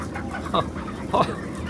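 Broiler chickens cluck in two short bursts over a steady background murmur of a flock in a poultry shed, fairly close.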